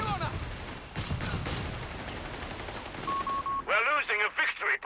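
Light machine gun fire in Company of Heroes 3 rattles out in rapid, dense bursts on a wartime battlefield, followed by a short tonal beep and clipped radio-like chatter.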